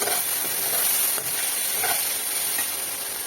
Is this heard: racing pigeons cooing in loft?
no